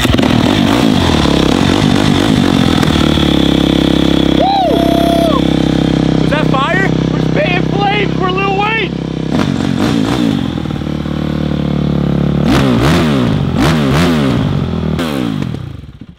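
A motorcycle with a failing carburetor starts on choke and settles into a loud, rough idle, then revs in several sharp bursts near the end, with a voice talking over it throughout.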